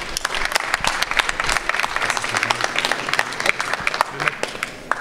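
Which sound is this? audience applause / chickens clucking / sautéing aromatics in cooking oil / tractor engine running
audience applause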